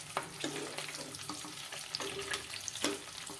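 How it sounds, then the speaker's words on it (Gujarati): Green chillies sauté in a pan over a low gas flame, a soft steady sizzle broken by a handful of scraping stirs against the metal, fairly close, with no talking. "ધીમી ગેસ ઉપર આપણે મરચાંને સારી રીતે સાતળી લેશું"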